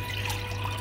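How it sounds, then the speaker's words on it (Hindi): Water from a glass runs into a pressure cooker holding mangoes, a brief, soft trickle over a steady low hum, with no talking. "यहाँ पे मैंने एक ग्लास पानी डाला है"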